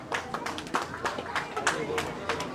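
A school crowd claps for students in steady rapid applause mixed with background chatter and a voice speaking over it.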